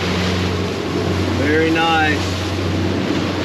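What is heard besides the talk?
fishing boat running at 16-17 knots on the water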